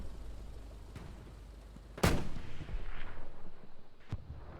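Anti-tank gun shots in a Hell Let Loose–style video game on the Utah map, one sharp loud blast followed by rumbling decay, with a fainter distant report just after and another crack near the end.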